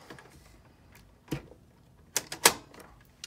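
A Coronet Super 12 vintage typewriter from the early 1970s struck in a few sparse keystrokes, one near the middle and a quick cluster toward the end, moderately close with no talk.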